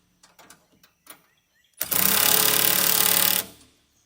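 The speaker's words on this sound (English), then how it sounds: "this is going to be just a little bit loud, then we tighten them up." A loud power tool, likely an impact wrench, tightens bolts in a woodland setting with one sustained burst of about a second and a half, preceded by a few faint clicks and knocks.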